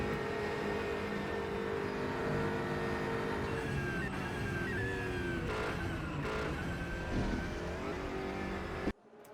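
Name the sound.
BMW transmission whine in racing video game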